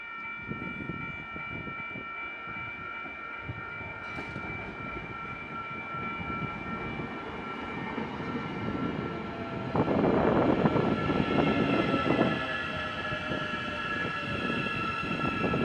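Matangi EMU electric train 5160 running toward Wellington, heard from inside as a steady hum with rail clatter and steady electric whine tones, rising to a louder rumble midway before settling.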